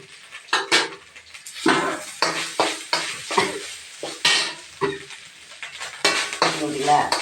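Rice being stirred and sautéed in a pan for coconut rice, with repeated scraping and clattering strokes of a spoon against the pan over a steady sizzle, close and fairly loud, with no talking.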